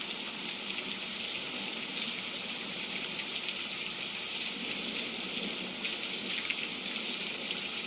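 Rain on a very rainy day makes a steady, even hiss of dripping and pattering water that runs unbroken at a soft, moderate level with no voices.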